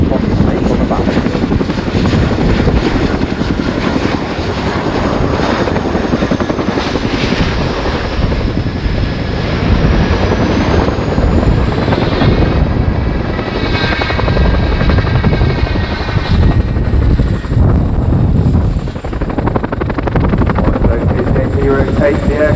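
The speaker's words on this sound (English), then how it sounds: "as you see the aircraft run left, the nose will pitch up as JT decelerates the aircraft" A helicopter flies a display manoeuvre at the RIAT 2019 airshow, pitching its nose up as it decelerates. A loud, continuous rotor and engine throb shifts in pitch as it moves, with a public-address announcer talking over it.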